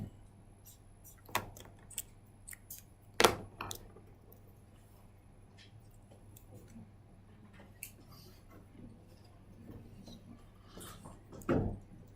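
Someone types on a computer keyboard, sparse irregular keystrokes with a few louder clacks, close but fairly quiet against a low background hum.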